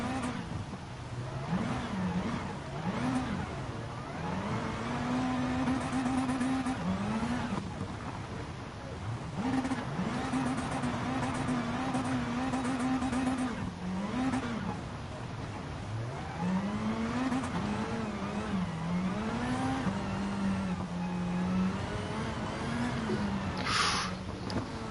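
A rally car engine in Rally GT revs hard and repeatedly, pitch climbing through each gear then dropping at the shifts, a loud steady run of acceleration with brief lifts, heard alone without talk.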